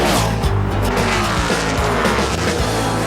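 Stock cars roar around Indianapolis Motor Speedway in the 1994 inaugural Brickyard 400, a loud, dense engine drone with shifting pitch as the pack passes close, steady and continuous with no voices.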